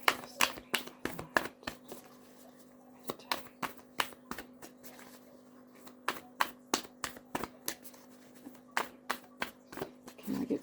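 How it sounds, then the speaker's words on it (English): Tarot cards are shuffled and drawn close up, producing rapid bursts of crisp card riffles and flicks in uneven clusters over a quiet room with a faint steady hum. "just let me get some more cards out"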